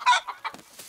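A cartoon hen in a barn gives a few quick, close, loud clucks in a short, bright burst, with rain outside.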